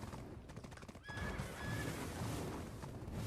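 A horse whinnies in a video game, a short, high neigh mixed with clip-clopping hooves against a faint game background.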